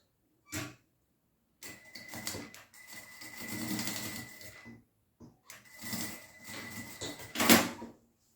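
A sewing machine stitches a half-centimetre finishing seam on a jute and chintz slim pouch in several short bursts, with a steady tone and quiet pauses between runs and a sharper clunk near the end.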